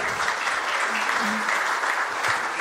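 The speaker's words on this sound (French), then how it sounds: "sous vos applaudissements" An audience at a conference on corporate social responsibility applauds, a dense, even wash of many hands clapping at steady loudness throughout.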